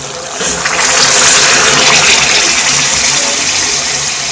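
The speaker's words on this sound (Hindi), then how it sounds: "अब इस टाइम पे मैं इसके अंदर 1 गिलास पानी का ऐड कर रही हूँ।" A glass of water poured into a pan of frying tinda (Indian round gourd) curry, giving a steady, fairly loud rushing gush that runs throughout without a break.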